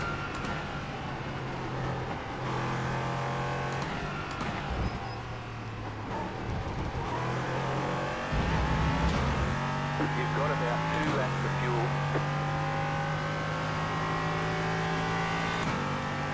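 Race car engines from an iRacing track day in a GT3-style sim race, a steady droning hum with shifting pitch as gears change and slower cars are passed, running continuously beneath someone talking over a radio call.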